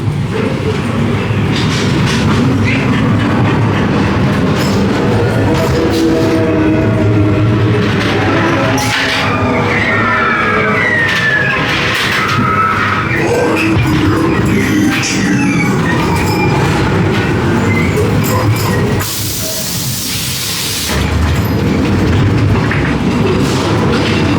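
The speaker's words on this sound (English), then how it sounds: "Let's go and ride on the Ghost Train." Loud, continuous rumble of ghost train ride cars rolling along a track at Blackpool Pleasure Beach, with clattering wheels and occasional squeals, and a brief hissing burst near the end.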